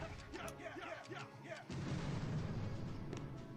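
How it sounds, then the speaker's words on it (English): Artillery barrage in the Boom Beach mobile game, a series of muffled booms and rumbling blasts that swell into a dense continuous roar, mixed with game effects. "I'll use a couple barrages back here"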